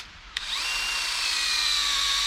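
A power drill bores a sap tap hole into a maple tree at a maple syrup festival: a sharp click, then a steady, loud, high-pitched whine as the bit cuts into the wood.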